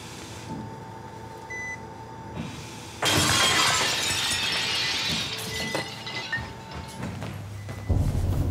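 Window glass shatters loudly with a sudden burst of bright crashing shards, following a quiet hum with faint beeps, then debris keeps tinkling and rattling afterward.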